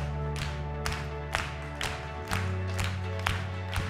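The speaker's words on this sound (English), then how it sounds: "All right, let's clap." Church congregation clapping along in time during worship praise, sharp regular claps roughly every half second over a sustained musical drone, moderately loud.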